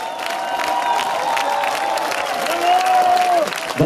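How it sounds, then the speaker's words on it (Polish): A live concert crowd claps and cheers after a band's performance. Dense applause with whoops and a rising whistle carries for several seconds, swelling slightly louder near the end. "duże brawa!"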